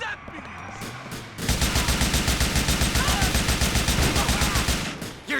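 Rapid automatic gunfire in GTA IV The Lost and Damned, a loud sustained burst of evenly spaced shots lasting several seconds.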